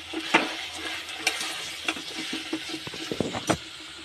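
A vegetable biryani mixture being stirred in a pan, with a steady sizzling bed and scattered scraping clinks of the utensil against the metal, several sharper strikes standing out near the end.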